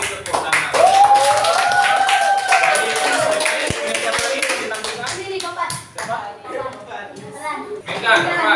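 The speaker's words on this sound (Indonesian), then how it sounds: "Beri tepuk tangan." Hands clap in a classroom during a teaching session with a game, the claps sharp and irregular, mixed with children and an adult talking nearby.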